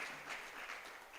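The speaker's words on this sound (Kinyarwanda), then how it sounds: "Let's clap our hands." People at a church youth conference clap their hands together, a short, fairly faint burst of steady, dense applause.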